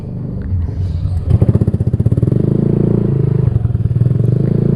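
A Honda Vario 150 scooter with a Black Devil R2 aftermarket exhaust idles loudly with a deep, throbbing exhaust note, pulsing rapidly and steadily close to the microphone.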